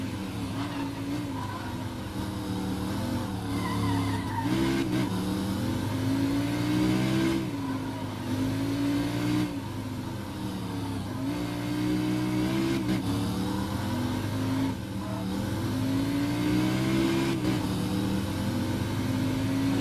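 A Mercedes McLaren SLR in the racing game World Racing roars loudly throughout, engine pitch climbing and dropping through repeated gear changes as the car accelerates and oversteers, with occasional tire squeal.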